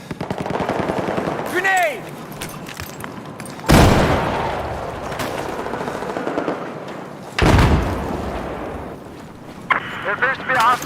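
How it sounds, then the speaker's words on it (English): Heavy machine gun fire and explosions in the video game Battlefield 4, with loud bursts and blasts across the span and talk underneath. "Hostile machine gunner operating south of your location."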